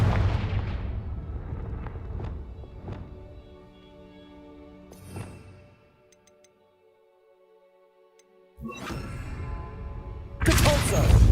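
Confringo fire spell from a Harry Potter video game, a series of sharp blasts with ringing tails, then a quiet gap before two loud explosive bursts near the end.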